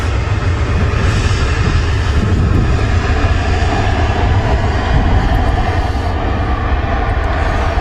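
A British Airways aircraft at Manchester Airport gives off a loud, constant engine roar with heavy low rumble and a broadband hiss, sustained without break throughout.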